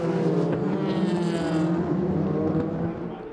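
Race cars roar past at the 6 Hours of Fuji, including a Ford GTE Pro car, with a loud sustained engine drone rising and shifting as the cars pass, fading slightly at the end.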